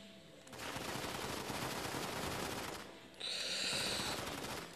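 Sustained automatic turret fire in the Modern Combat 5 mobile shooter, a dense, loud rattle of rapid shots lasting several seconds with a brief dip before resuming alongside a high whine.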